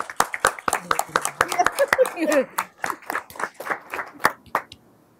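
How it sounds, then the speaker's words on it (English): Scattered applause from a small group at a Lawrence USD 497 board of education meeting, honoring school counselors: distinct claps in an uneven rhythm with voices talking over them, thinning out toward the end. "Let's give them a round of applause"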